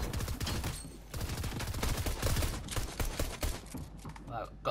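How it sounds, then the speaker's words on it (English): Rapid, dense gunfire in the Fortnite Knockout video game, continuous bursts of loud shots running throughout with no pauses. "You could hear me shooting my gun, it just wasn't shooting"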